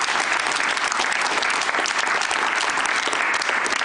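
A studio audience at a Georgian late-night talk show breaks into loud, dense, sustained applause, many hands clapping evenly throughout with no talk on top.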